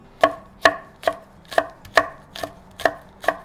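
Knife chopping onion and other vegetables on a cutting board for Korean gochujang stew; eight sharp, evenly spaced thwacks, close and clear, with no talking.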